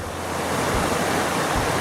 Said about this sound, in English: this is up above the waterfall